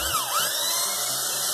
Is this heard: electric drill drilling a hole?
yes